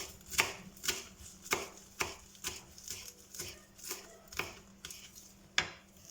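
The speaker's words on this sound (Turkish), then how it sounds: "Soğanlarımızı doğruyoruz." A knife chops onions steadily on a cutting board, about ten crisp evenly spaced strikes, close and clear with no talking.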